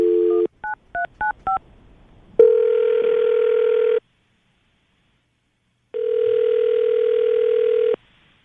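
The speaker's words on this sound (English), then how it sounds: "All right, Ben, we're going to call her right now, see if we can get her on the phone, okay?" A few quick keypad dialing tones, then two long electronic ringback tones separated by a pause of silence, from a telephone call.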